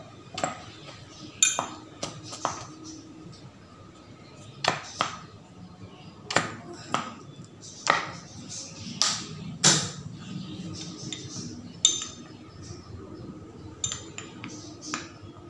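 A spoon clinks irregularly against a bowl while green mask powder is mixed with aloe vera gel, giving a steady series of light, sharp taps and scrapes spread over a quarter minute, close by and without talk.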